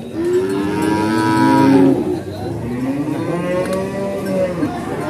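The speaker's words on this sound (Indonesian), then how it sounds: "Nah ini ya sapi-sapinya ya." Cattle at the Purwakarta animal market in Indonesia low repeatedly, several long drawn-out moos overlapping and following one another, fairly loud and close, over a busy market murmur.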